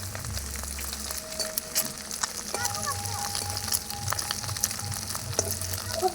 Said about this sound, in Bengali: বেশি ভাজবো না এটাকে তুলে নেব নাহলে ডিমটা শক্ত হয়ে যাবে